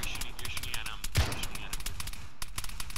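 Gunfire in a military video game during a joint Marine expeditionary unit operation, with a sharp close shot standing out from a steady background of rapid distant firing and battle noise.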